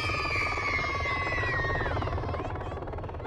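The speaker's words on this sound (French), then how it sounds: "Un hélicoptère atterrit spécialement pour les enfants." Helicopter arriving to land at an outdoor event for children, its steady rotor and engine drone loud and close, with a sweeping whine that drops in pitch as it descends.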